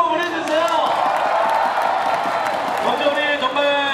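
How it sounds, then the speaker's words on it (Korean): A baseball stadium crowd at an LG Twins game applauding, with steady dense clapping and cheering that runs the whole time. A voice talks over the crowd. "박수 한번 보내주세요."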